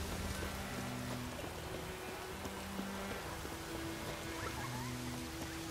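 Steady rain in the video game The Witcher 3: Wild Hunt, a dense, even hiss of falling water that stays loud throughout, with sustained low musical tones running underneath and no voices.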